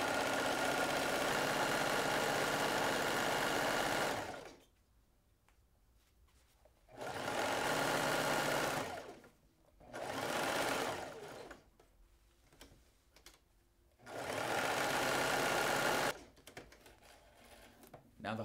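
A sewing machine stitches a decorative pillow cover seam with a half-inch allowance, running in three loud, steady whirring bursts of a few seconds each, separated by quiet pauses with faint handling of fabric.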